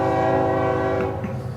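Train horn sounding loud and steady, with a sustained chord of tones over the low rumble of a passing train near a craft brewery by the railroad tracks in Jessup, Georgia.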